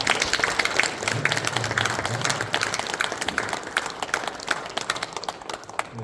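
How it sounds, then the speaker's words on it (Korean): A church congregation applauds with sustained, dense clapping filling the room, steady and fairly loud throughout with no pauses. "큰 박수 부탁합니다"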